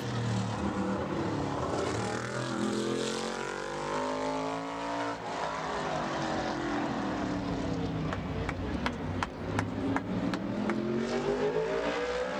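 A modified race car laps Bowman Gray Stadium in qualifying. The engine roars loudly with rising and falling pitch as it circles the track, and sharp crackles come near the end.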